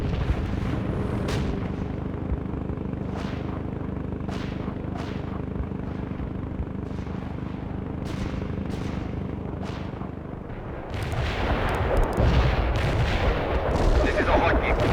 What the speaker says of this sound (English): Artillery strike on the way. Barrage. Commencing the barrage.